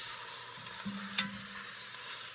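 Steady sizzling of ribs searing in a hot pan, a continuous crackling hiss with a brief sharper spike midway; no voices.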